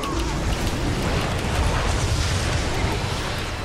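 Dense, continuous roar of ability explosions and bursts from a Heroes of the Storm team fight on the Cursed Hollow map, loud and unbroken with no clear separation between blasts.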